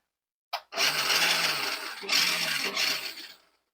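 A Simrex H1 Hurtle RC truck's electric motor spins up at full throttle with a loud, steady high-pitched whine, briefly dipping twice before winding down, with no talking.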